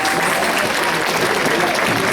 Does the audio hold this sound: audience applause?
yes